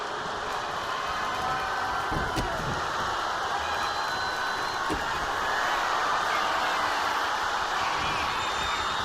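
A wrestling arena crowd in a wrestling video game's universe mode roars with a dense, sustained wash of cheering and whoops that stays steady throughout and is loud and close.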